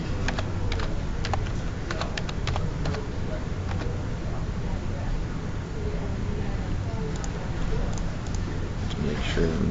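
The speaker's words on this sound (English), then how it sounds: "So I'll type in" Keys clack on a computer keyboard in quick, uneven bursts of close, crisp taps, with a person talking throughout.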